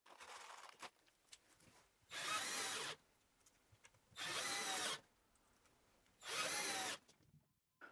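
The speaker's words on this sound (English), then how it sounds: "I added screws to the back panel" A power drill drives screws into a wooden back panel in three separate bursts of about a second each, loud and close, with quiet handling noises and clicks between them.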